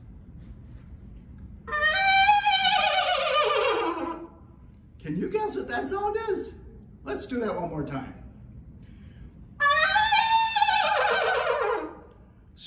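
A trumpet imitates a horse whinny twice, bright falling wavering notes, with a person talking briefly between the two calls.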